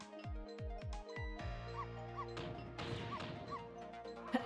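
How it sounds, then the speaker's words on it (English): In the video game Ghost Trick: Phantom Detective, a small dog's chiptune-style barks repeat rapidly over game music and sound effects, ending in a sharp crash-like hit. "What exactly are you barking about anyway?"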